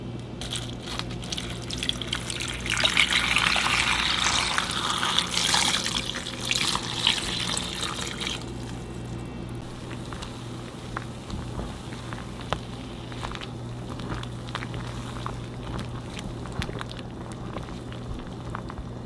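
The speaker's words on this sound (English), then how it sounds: "I'm just gonna boil that until it becomes pliable." Water in a pot heated toward a boil to soften chilaquiles ingredients, a steady bubbling wash with fizzy hiss that eases after several seconds, close and alone without talk.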